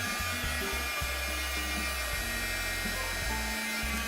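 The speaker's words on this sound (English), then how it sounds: "use a heat gun to gently dry the ink" A heat gun blows hot air onto ink on the back of metallic illusion film, a steady whirring blower hum with a low motor drone running continuously and fairly loud, no talking.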